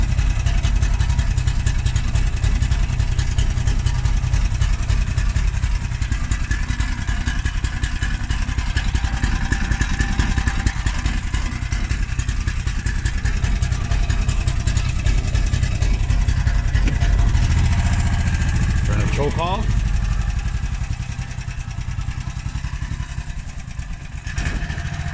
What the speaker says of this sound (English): when it's idles, yeah, idles a little bit rough